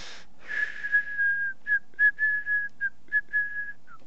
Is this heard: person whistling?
yes